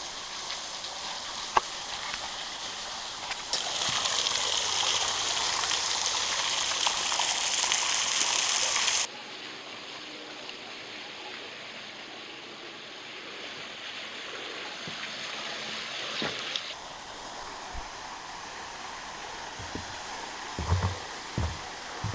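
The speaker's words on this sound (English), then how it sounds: "Nice trickle." A small stream at Little Lyons Falls in Mohican State Park, Ohio, trickles and gushes steadily and close by on a January hike, a soft continuous wash of water with a few faint knocks.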